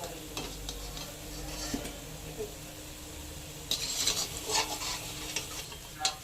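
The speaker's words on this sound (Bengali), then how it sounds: "বড়া আমার ভাজা হয়ে গেছে। এবার তেল ঝরিয়ে তুলে নেব।" Palm fritters fry in hot oil with a soft, continuous sizzle. Clinks and scrapes of a utensil stirring or lifting them from the pan come through at close range, growing busier toward the end.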